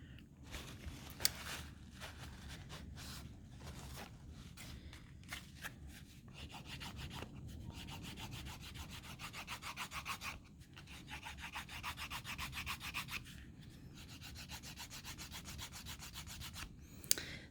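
A polishing rag cut from old New Zealand rugging rubs steadily over a leather pocket knife sheath, giving a continuous close, scratchy swishing with brief pauses between strokes.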